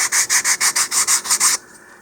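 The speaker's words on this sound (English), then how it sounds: "just continue sanding and then roll your wrist over to impart a rounded surface there" Rapid back-and-forth strokes of sandpaper rub the edge of a model rocket part, about a dozen loud, close, rhythmic passes before stopping abruptly.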